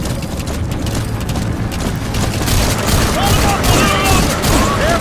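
Gunfire in the video game Metal Gear Solid V, with bursts of shots and booms layered under game music and effects, growing louder and busier toward the end while a voice calls out.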